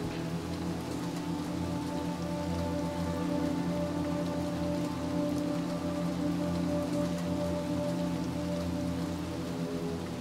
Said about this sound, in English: Back into the rain.